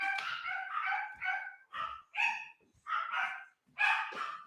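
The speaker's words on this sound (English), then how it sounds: "They did stop barking real sudden." Several dogs bark in quick repeated bursts close by, sharp yips and barks coming in uneven clusters with brief gaps between them and no talking over them.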